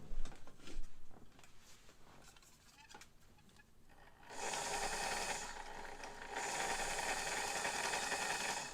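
A sewing machine running a straight stitch, a steady buzzing whir that starts after a few quiet seconds of faint ticking, pauses briefly, then resumes, close and moderately loud.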